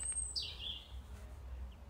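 Birds chirping outdoors, a single short high call that then fades, faint and distant over a low rumble of background noise.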